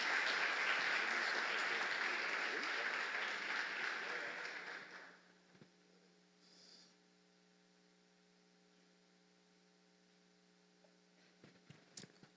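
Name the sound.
church congregation applauding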